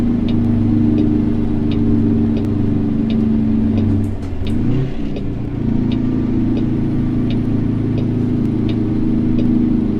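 A diesel truck engine hauling on a California highway, rumbling steadily and loud, its drone dipping and shifting in pitch partway through as the driver downshifts, then settling back into a continuous low roar.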